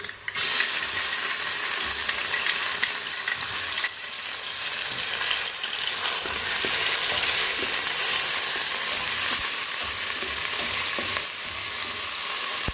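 Loud, steady sizzling and hissing of ginger garlic paste frying in hot oil with browned onions, continuous and close, with faint stirring scrapes underneath.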